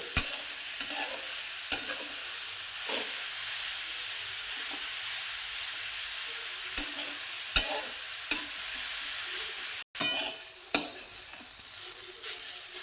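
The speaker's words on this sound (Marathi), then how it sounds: "असं याला हलवत राहायचं याचा कलर चांगला चेंज होतो" Grated carrot halwa stirred and fried in a pan gives a steady sizzling hiss throughout, broken by sharp scrapes and clicks of the spoon against the pan at irregular intervals, close and alone with no talk.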